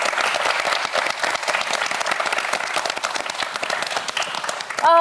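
A studio audience on a televised science quiz show breaks into sustained, dense applause that stays steady and fairly loud throughout, ending abruptly.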